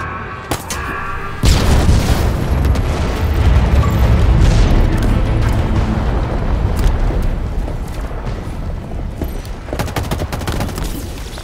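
A gun's generator explodes in the Halo Infinite video game, a sudden loud boom followed by a long rumbling roar of blasts and crackling debris that slowly fades, with no voices.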